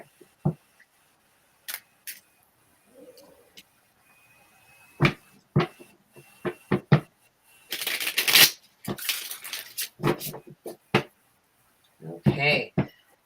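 Tarot cards are shuffled in scattered sharp taps and clicks, then a brief dense riffle and a few more snaps near the end, close and fairly quiet, with a voice murmuring briefly between them.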